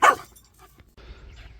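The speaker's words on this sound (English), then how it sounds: "He's a good dog. He's my dog." A dog lets out one sharp, close bark at the outset, followed by soft whines and faint movement noises in a quiet outdoor setting, with no talk.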